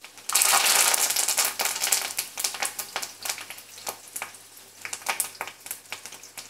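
Green chillies and curry leaves hit hot oil in a pan, bursting into a loud crackling sizzle that settles into uneven spitting and popping.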